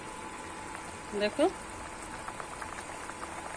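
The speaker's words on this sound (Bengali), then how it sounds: "খুব সুন্দর কিন্তু মাছের ঝোলটা বন্ধুরা ফুটে উঠেছে" A pot of hilsa fish and eggplant curry bubbles steadily with a soft, continuous boiling patter, and a voice speaks briefly over it.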